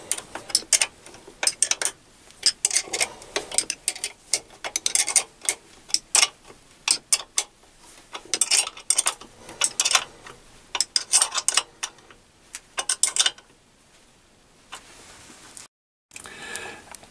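A ring spanner tightening the carriage stop on a mini lathe gives a run of repeated metallic clicks and ratcheting ticks in bursts, close and fairly loud, with brief pauses and no talking.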